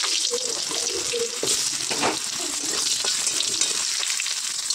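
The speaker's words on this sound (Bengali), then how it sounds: "তা আলুগুলো এখন ভেজে নেবো।" Potatoes fry in oil in a pan, giving a close, steady bubbling sizzle with a few soft stirring clinks and no voices.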